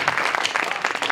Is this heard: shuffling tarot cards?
no